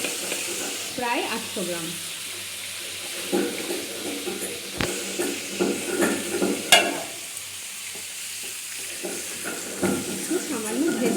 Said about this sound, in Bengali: এবার আমি এই তেলের মধ্যেই দেখুন মাংসটা একটু ভেজে নেব